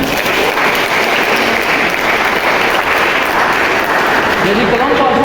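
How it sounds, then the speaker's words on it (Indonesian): Loud, continuous applause from a classroom group for a fellow participant, dense clapping with crowd murmur mixed in throughout. "Beri tepuk tangan untuk teman kita."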